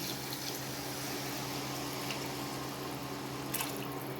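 Water being poured into a pan of brinjal upma mixture makes a steady, close, trickling splash that carries on for several seconds, with no voices over it.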